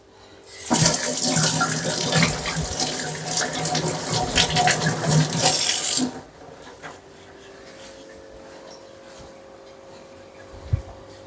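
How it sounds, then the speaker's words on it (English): Water from a kitchen tap runs loud and splashy as hands are washed beneath it for about five seconds, then shuts off, leaving quiet room sound with a faint clink near the end. "I'll just wash my hands"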